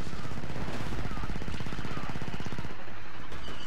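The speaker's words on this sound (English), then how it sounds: "Chain gun." Chain gun firing in Star Wars Battlefront 2 as a rapid, steady stream of loud automatic shots that stops just before the end.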